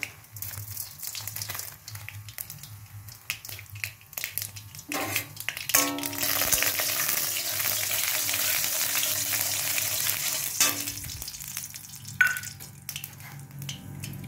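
Cumin and black mustard seeds hit hot oil in a pan, first light scattered crackles, then a sudden broad sizzle that swells and holds steady, close and without talk.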